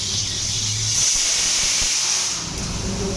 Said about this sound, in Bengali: এরপরে আমরা এটা ভালো করে ধুচ্ছি।